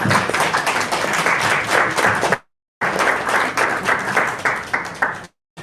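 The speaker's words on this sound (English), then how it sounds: "So can we give a round of applause for Miss Linda Williams?" Loud, dense applause from the audience at a book launch, greeting author Linda Williams. Two sustained bursts of clapping break off abruptly with short silent gaps.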